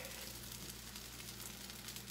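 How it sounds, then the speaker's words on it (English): A soft, steady sizzle of crepe batter frying in a hot oiled pan that is not nonstick, quiet and continuous with no voices. "I just poured some batter in"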